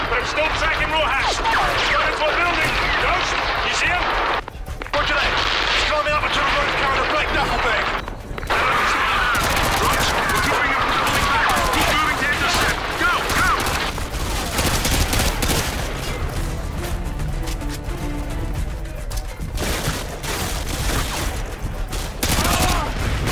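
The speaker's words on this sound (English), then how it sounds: "Roach, we're taking heavy fire from the militia here" Heavy militia gunfire rattles through a Call of Duty Modern Warfare 2 firefight, with sustained overlapping bursts of automatic fire and scattered crashes at close range. Game voices shout over the shooting, and the intensity thins toward the end.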